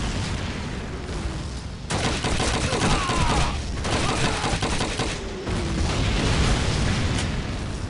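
Dense machine gun fire and explosions from a World War II battle in Call of Duty 2, loud and continuous bursts rattling throughout with heavy booms, no talk.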